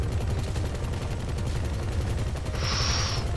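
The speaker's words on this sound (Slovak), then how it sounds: "Poď strieľať do nich" Video game gunfire rattles in a rapid, continuous barrage, loud and dense throughout, with a brighter hissing burst near the end and no talking.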